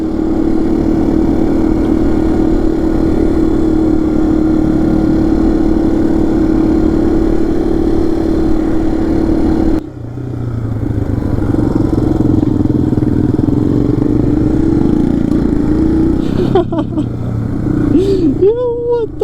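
A dirt bike engine drones steadily near an elementary school, a loud sustained mid-pitched hum that drops out briefly, then returns with rising and falling revs toward the end.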